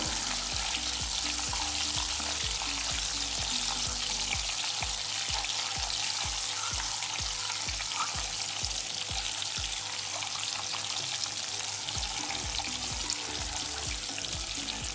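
Frying in a pan for egg curry produces a dense, continuous sizzle, with a steady run of soft stirring taps in the low end.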